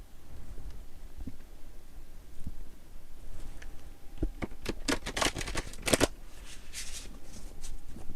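A deck of tarot cards being shuffled nearby, with quiet taps and rustles at first and then a quick run of crisp riffling flutters.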